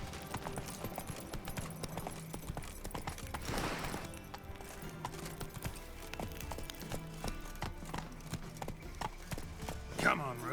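Hoofbeats of Roach, Geralt's horse in The Witcher 3: Wild Hunt, a steady run of clip-clop strikes close by, with a louder burst near the end and a voice talking over the game sounds.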